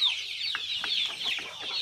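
Local roosters and hens, including naked-neck roosters, cluck and chirp in a coop, a rapid series of short, close calls over a quiet background with no speech.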